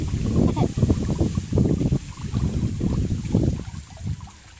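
Steady rushing wind buffeting the microphone, with gusty low rumble throughout and muffled talk underneath.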